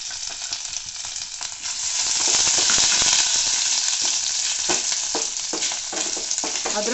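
Ginger sautés in about a spoonful of hot oil in a kadhai, a loud close crackling sizzle that swells after a couple of seconds, with scraping and stirring clicks throughout.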